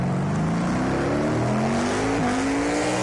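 Stock car engines roar loudly and continuously in a Project Cars 2 race, their pitch climbing steadily as the cars accelerate, with a dense layer of racing noise and no voices.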